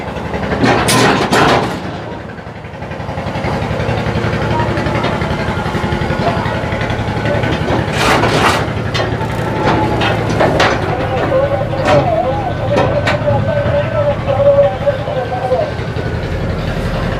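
A passenger launch leaves Chandpur on a river route toward Eidgah ferry ghat. Its engine runs as a steady, loud, close drone with a few mechanical clanks, and voices can be heard in the background.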